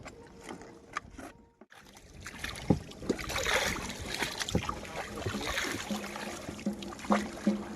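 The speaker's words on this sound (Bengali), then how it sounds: "নৌকা বেয়ে আমরা যাচ্ছি এখন" A small wooden fishing boat rowed along a Sundarban river, with rhythmic oar knocks and splashes against steady water and wind noise over several seconds, close by.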